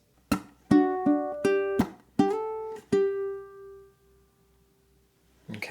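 A ukulele plucks one bar of a song as about eight distinct, bright notes in an uneven rhythm, close and clear, with the last note ringing out before a faint sound at the end.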